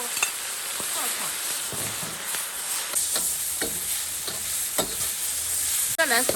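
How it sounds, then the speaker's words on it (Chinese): Pickled chilies stir-fried in a wok, a constant loud sizzle with rapid rhythmic scraping and clanking of the spatula against the metal, close by. "泡椒下锅爆炒"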